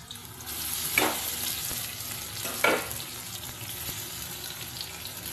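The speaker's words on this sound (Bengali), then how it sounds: "এবার কড়াইয়ের মধ্যে কিছুক্ষণ এটা নেড়ে চেড়ে নেবো" Ripe mangoes being stirred in a wok while making a sweet-sour-spicy mango pickle, a steady close sizzle with two louder scraping stirs near the start and middle.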